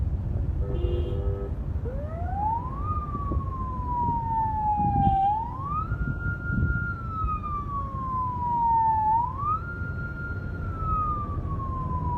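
An ambulance siren wails with rising and falling sweeps, loud and fairly close, over steady low traffic rumble.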